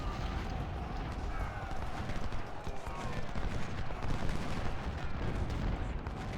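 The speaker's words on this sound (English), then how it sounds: "And my cavalry was just destroyed by an infantry volley." Infantry musket volleys in a Civil War strategy game battle at Potomac Fort, a dense continuous roar of massed distant firing and battle noise with no clear breaks.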